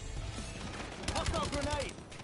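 Shotgun fire in a first-person shooter video game, mixed into dense battle noise with bursts of gunfire under faint radio chatter and voices.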